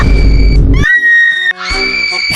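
Characters in the Sakura School Simulator game let out loud, shrill, synthetic screams in quick succession, a few brief bursts with short gaps between them and no talk.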